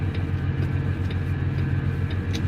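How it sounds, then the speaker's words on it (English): A semi truck's auxiliary power unit runs with the main engine shut off after a regen, heard from inside the cab as a steady, loud, low droning hum with a constant pitch and no talking. "I got the APU running because I turned the truck off after it did the regen."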